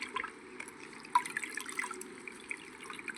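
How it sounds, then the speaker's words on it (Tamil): Mint leaves are rinsed in water with soft splashing and dripping, a faint, steady trickle close by with small drops breaking through. "நம்ம புதினாவை நல்லா கிள்ளி வச்சுருக்கோம். அதை நல்லா சுத்தமாக அலசி எடுத்துக்கலாம்."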